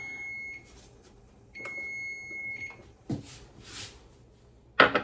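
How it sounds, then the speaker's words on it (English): An oven timer sounds when the bread finishes baking in a home kitchen during mixed berry cobbler prep: two sustained electronic tones with a pause between, followed by a brief clatter near the end. "And then my oven's done."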